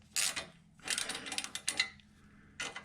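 A ratchet tightens a bolt on a Harley-Davidson motorcycle crash bar, giving short bursts of quick clicking with brief pauses between strokes, close and fairly quiet.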